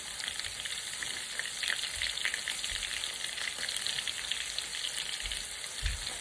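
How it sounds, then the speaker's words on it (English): Shrimp coated in New Orleans fish fry batter frying in hot oil, a steady dense sizzle with crackling bursts throughout, close and continuous with no talking. "So just put the fish in there, the shrimp in there."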